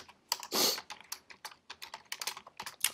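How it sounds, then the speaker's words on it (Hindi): Fast, uneven keystrokes clatter on a computer keyboard, close and crisp, with one longer rustling burst early on and no voices. "यहाँ पे मैं लिख देता हूँ move move text field"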